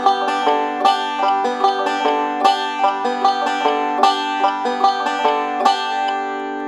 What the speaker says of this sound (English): Here's playing 4 quarter beats per measure at 150 clicks.